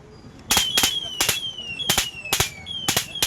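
Remote-controlled firecrackers burst in a rapid series of about seven sharp, loud cracks at irregular intervals, with a thin whistling tone running between the bangs.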